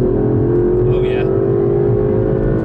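Aston Martin DB11 in Sport Plus mode accelerating hard with the throttle floored through third and fourth gear, a loud steady engine drone with a rising tone heard from inside the cabin.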